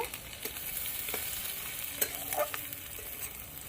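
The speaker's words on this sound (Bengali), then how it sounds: "কালো জিরে পেঁয়াজ রসুন লঙ্কা একসঙ্গে ভালো করে ভেজে নেব" Black cumin, onion, garlic and chili frying together in a pan, a quiet, steady sizzle broken by occasional scrapes and taps of a stirring utensil.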